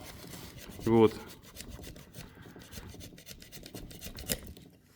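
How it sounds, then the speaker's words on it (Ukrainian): A knife slices off the excess rubber of a tire repair plug on an ATV wheel in an open field, giving a steady scraping, rasping cut with one brief louder scrape near the start. "Тепер за допомогою ножа зрізаємо зайве"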